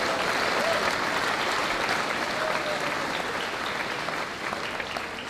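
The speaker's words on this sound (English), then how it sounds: "You can applaud for that, too." A large audience at a high school graduation ceremony applauds steadily, a dense even wash of clapping heard from a distance that holds for several seconds and eases slightly at the end.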